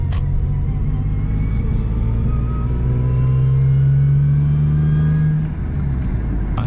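A Lexus IS 300 with a manual gearbox and a gritty exhaust without a resonator drives along with a steady, loud engine drone heard from inside. A tone slowly rises while revving and then eases off.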